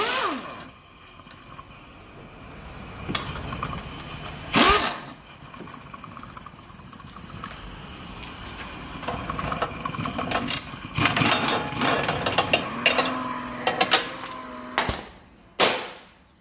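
An air impact gun rattles off gearbox bracket bolts in a workshop, with loud bursts of hammering and steady mechanical buzz between short pauses, close to the microphone and with no talking.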